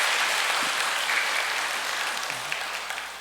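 A large audience at a peace blessing ceremony gives thanks with sustained, dense applause, a loud, even wash of many hands clapping throughout without a break.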